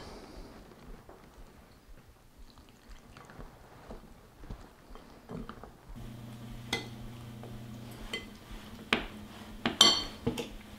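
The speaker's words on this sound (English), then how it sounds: "Stir it around. Let it cool as we add it." A utensil clinks and scrapes against a bowl as warm cream is stirred into chocolate truffle mixture, quiet at first and then busier and louder toward the end, with no talking.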